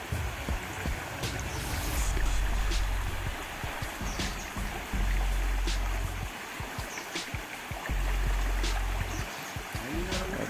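Monsoon floodwater surges past in a Konkan flood: a loud, continuous rushing roar with occasional dull knocks and splashes, close by and without any voices.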